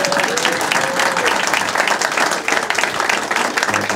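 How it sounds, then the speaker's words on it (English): A school board meeting audience applauds a freshman all-conference athlete, a full, steady round of clapping from many hands in an indoor room, with a faint voice briefly audible beneath it. "You can clap for him."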